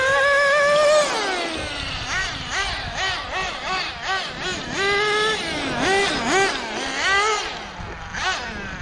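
A HoBao Hyper VS2 nitro RC car with a v18 engine and HoBao T4 glow plug idles, then revs in repeated rising and falling bursts, a loud, close, high-pitched buzzing whine throughout.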